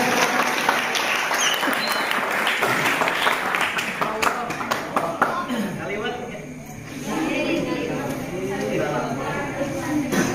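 An audience claps together at a Quran recitation (MTQ) award announcement as a winner is named, steady applause filling the room with an announcer's voice over it, thinning briefly before rising again.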